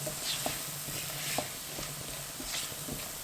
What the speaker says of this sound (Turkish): Karnabaharı bir daha karıştırıyorum.